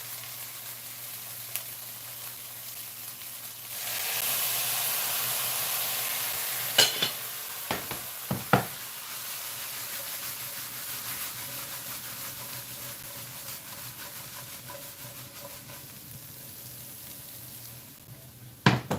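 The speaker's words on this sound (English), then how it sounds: "let our lentils just roll and boil there" Lentils boiling in a pot, a steady bubbling hiss that holds throughout, with a few sharp clinks and knocks partway and at the end, no talking.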